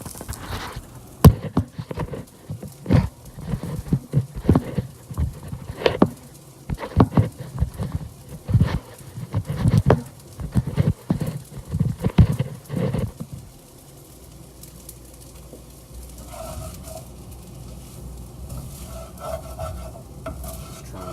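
Garlic for Filipino garlic fried rice being stirred in a pan, rapid loud scraping and clattering strokes against a soft sizzle for about thirteen seconds, then a quieter lingering hiss with faint clinks.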